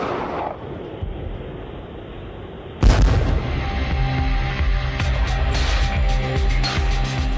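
US Marine Dragon guided anti-tank missiles and a vehicle-mounted TOW launcher firing: a sudden loud blast about a third of the way in, then a sustained heavy rumbling roar of weapons fire.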